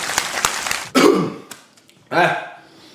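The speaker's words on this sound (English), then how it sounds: "It was like a weird cough." An odd, strained cough bursts out twice after a stretch of background chatter, each a short, rough, breathy blast close to the mic, with a pause between them.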